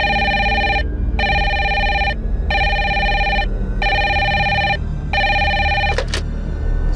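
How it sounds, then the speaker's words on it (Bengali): A telephone rings alone in a steady repeating pattern, five electronic bursts with short gaps between them, loud and close, then a brief click near the end. "যাও ফোনটা তোলো"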